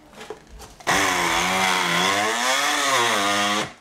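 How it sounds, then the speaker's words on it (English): A kitchen blender whirs loudly while blending an old banana, starting abruptly after a few soft knocks and holding a strained, wavering motor whine for nearly three seconds before shutting off. "Let us see if I can blend it."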